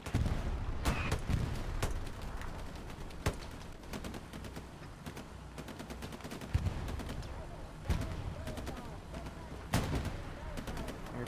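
Battle on Utah Beach in Hell Let Loose, a 49-versus-49 match: dense, continuous gunfire with rifle cracks and machine-gun bursts, scattered louder reports and distant booms under an ongoing background rumble.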